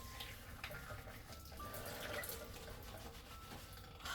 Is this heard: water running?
yes